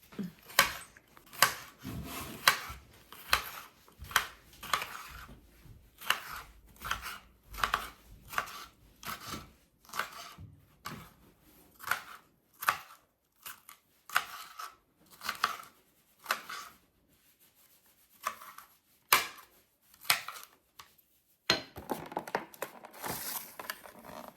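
Onion for a veggie scramble is chopped with a knife on a board in quick, regular strokes. The close, crisp cuts come in bursts with short pauses throughout.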